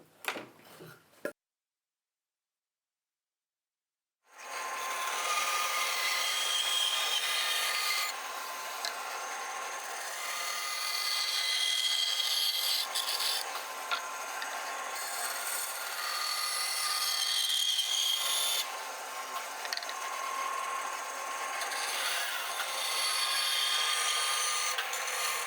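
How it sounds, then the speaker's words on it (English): A bandsaw trims wooden board edges, a steady rasping whine running continuously after a brief clatter and short pause at the start, with no talking. "And then we'll head over to the bandsaw and just trim these off."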